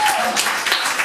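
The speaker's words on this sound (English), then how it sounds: "Let's clap it up. Let's cheer for yourself." Comedy club audience applauding and cheering on a Saturday night, a short dense burst of clapping with crowd voices mixed in, loud and close.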